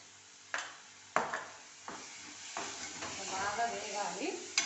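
Ginger, garlic and coconut paste frying for a potato masala curry, a sizzle punctuated by several sharp clanks of a spoon against the pan, with faint spatters and brief voice traces in the background.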